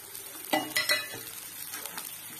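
Masala fries in a pan for a Marathi double beans rassa curry, with a few quick stirring scrapes over a soft, close sizzle and no talking.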